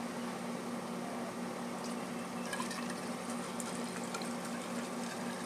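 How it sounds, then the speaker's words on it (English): Pool chlorine being poured into the pipe of a carbon filter tank on a home water system, a steady liquid rush and hiss with faint trickling detail, continuous and close throughout. "I'm just going to pour it down the pipe"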